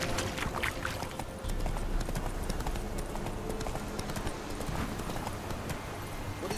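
Horse hooves clip-clopping at a steady trot in The Witcher 3, a continuous rhythmic patter over outdoor game ambience, moderately loud, no talk.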